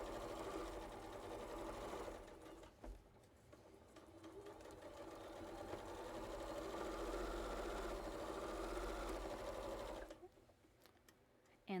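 A sewing machine runs steadily while stitching through a quilt and its batting, a continuous mechanical whir with faint talk underneath, pausing briefly near the start and dropping off toward the end.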